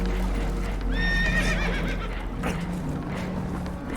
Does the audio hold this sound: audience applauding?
no